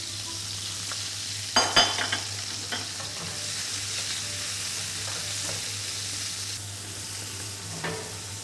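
Chicken breast frying with mushrooms in a pan gives a steady, moderate sizzle with a few sharp utensil clinks and stirring knocks, and nobody speaks.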